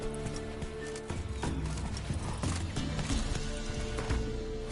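Roach, a horse in The Witcher video game, gallops with steady, rapid clip-clop hoofbeats against continuous background game music and ambience. The hoofbeats are loud and close, and no one talks.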